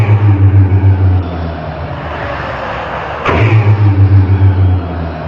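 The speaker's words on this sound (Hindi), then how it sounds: "और हमारे डिक्रायोसॉरस की आवाज कुछ इस तरह होती थी।" A deep, drawn-out roar given as the call of Dicraeosaurus from Dinosaur King, loud and rumbling with a tonal low drone, breaking off briefly midway before resuming at full strength, no talk over it.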